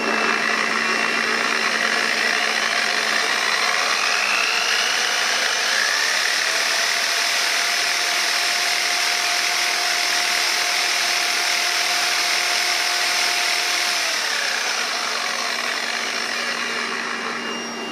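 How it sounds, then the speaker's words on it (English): An electric polisher powered by a portable power station whirs continuously, its pitch rising as the speed is increased, then easing slightly near the end, loud and close with no talking. "And then we'll run the polisher. Start at a low speed here. And then we'll crank it up."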